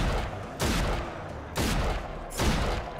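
Gunfire in the video game RAGE: three loud, booming shots spaced about a second apart, each with a short rumbling tail, close and alone.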